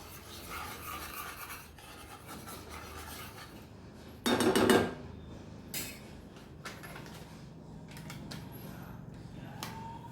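A spoon stirs creamy white sauce pasta gravy in a pan, giving quiet scraping and clinking with one louder, rougher scrape in the middle.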